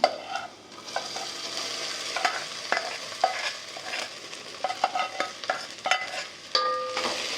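Pre-fried okra tossed into sizzling fried onions in a pan for bendekayi sambar, with a steady frying hiss broken by repeated scraping, clattering stirs of a spoon against the pan.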